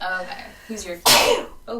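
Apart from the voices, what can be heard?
sneeze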